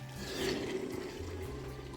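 Water poured into a long-used cooking pot to cover layered maqluba, a steady, close splashing and gurgling stream lasting about two seconds with no talk.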